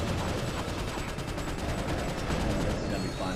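Rapid, continuous gunfire from the video game Ratchet Deadlocked fills the moment, a dense, loud barrage of shots and mechanical clatter with no voices over it.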